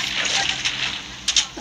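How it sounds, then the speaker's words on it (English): A character splashes into water in a survival island video game, a short, loud watery splash and slosh close up, with brief bursts near the end. "I fell into the water"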